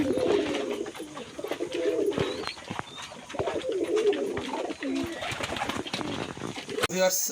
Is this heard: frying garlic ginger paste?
no